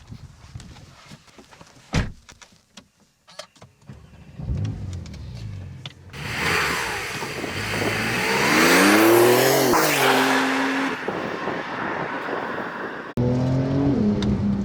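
A Porsche 911 Turbo S (992) on a race track: loud engine revving and accelerating with rising, falling gear pitches and tire noise, building to a sustained roar, then a brief cut and another pull, with no talk.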